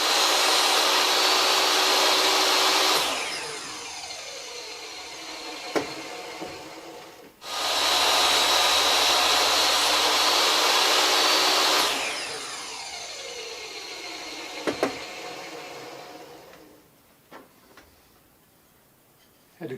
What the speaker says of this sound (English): we got a special blade on our table saw. It's a hardy board blade to cut this stuff